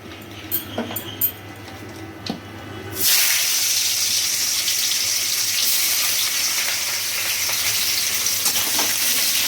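Chopped onions dropped into hot oil with a bay leaf, a few soft clicks first, then a sudden loud burst of sizzling that settles into a steady hiss, close to the pan.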